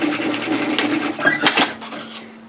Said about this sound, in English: stitch at 1 centimeter with a back tack at the beginning and the end